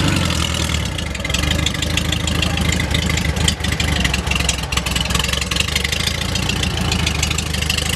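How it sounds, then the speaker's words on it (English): A 1972 Volkswagen Super Beetle engine idling close up, giving a loud, continuous, rattling air-cooled chug with a steady rhythm that holds unbroken for the whole stretch. "I'll usually crank it up, let it sit and idle for about 5-10 minutes"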